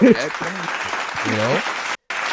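Applause mixes with several people talking at once, a continuous crackle of clapping under loud overlapping voices, cut off briefly by a moment of silence near the end.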